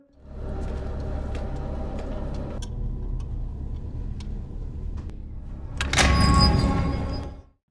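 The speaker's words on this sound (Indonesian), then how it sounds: "Iris pun langsung membuka pintu ruang bawah tanah" A basement door in a house is opened, with a low mechanical hum, scattered clicks and ticks, then a louder burst of creaking and rattling near the end.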